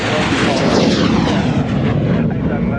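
Aircraft landing on runway 27 at the Royal International Air Tattoo airshow, a loud continuous broadband engine roar filling the clip with steady rumble, close and sustained.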